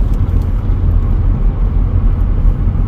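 A car driving through a winter storm gives off a loud, steady low rumble of engine and road noise, unbroken and with no talking.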